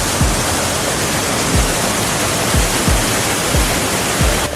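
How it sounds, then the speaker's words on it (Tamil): Thalaiyar waterfall in Tamil Nadu roaring as a dense, continuous wash of falling water, loud and close, with occasional low thumps and no voices. "சரி, நம்ம அருவிக்கு வந்துட்டோம்."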